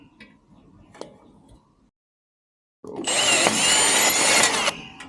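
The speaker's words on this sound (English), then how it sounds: "so get you a hole drilled" A few faint taps and clicks, a brief pause, then a power drill whines loudly and steadily for about two seconds before stopping.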